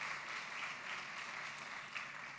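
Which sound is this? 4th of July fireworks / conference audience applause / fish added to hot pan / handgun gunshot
conference audience applause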